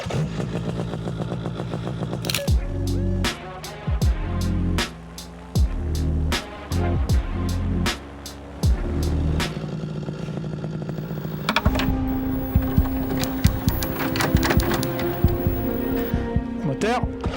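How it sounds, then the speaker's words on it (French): A paramotor engine warms up before takeoff, its steady, droning idle building beneath talking voices, with sharp mechanical pulses and clicks that settle into a continuous hum near the end. "On va faire le préchauffage du moteur."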